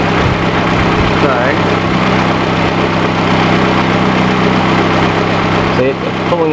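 A Ford Capri B6 turbo engine idles steadily during a head gasket test, a constant close rumble that runs through the whole clip with a brief dip near the end.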